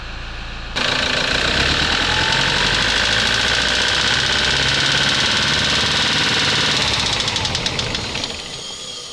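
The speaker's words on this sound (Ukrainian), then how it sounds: "Дуже цікавий стучок. Якщо дати газу і заглушити, на обертах стук залишається, доки двигун не заглохне." Diesel engine of a Toyota Prado 150 D4D with a knocking fault, idling loudly up close with a steady rattling knock that carries on as it revs and then dies away when the engine is shut off.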